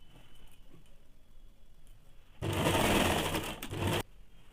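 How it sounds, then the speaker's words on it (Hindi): Close, loud sewing machine stitches a salwar seam in one steady run of about a second and a half after quiet handling noise. "इसी प्रकार से दूसरे साइड का भी सिलाई कर लेंगे"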